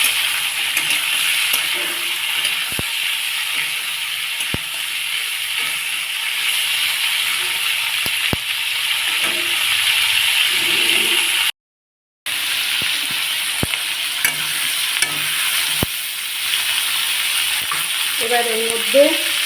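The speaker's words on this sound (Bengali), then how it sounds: "এবার এগুলো ভালো করে ভাজা করবো" Capsicum, yardlong beans and green beans fry in a pan with a steady broadband sizzle throughout, broken by a brief silent gap and occasional soft clicks and stirring knocks.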